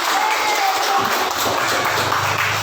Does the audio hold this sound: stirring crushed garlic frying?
no